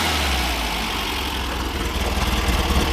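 A 1961 Volkswagen Beetle engine with a sport exhaust idles loudly up close, a throaty, steady low rumble with a slight pulsing lope toward the end.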